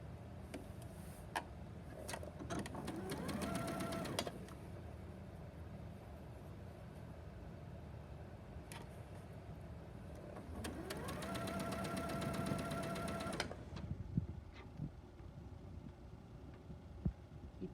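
A sewing machine pieces quilt blocks with a scant quarter-inch seam. Two steady, close runs of a humming, rhythmic motor are separated by quiet pauses, with no talking.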